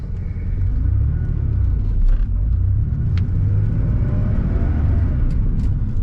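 A 1988 Porsche 911 with G50 gearbox drives along, its engine and road rumble a steady, loud low drone heard from inside the cabin with no voices.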